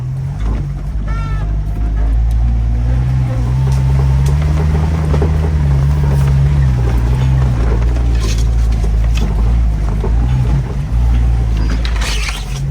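An off-road vehicle in 2-wheel drive climbs a hill, a steady low engine drone running throughout with rattles and knocks from the rough ground, close and continuous, with no clear talking.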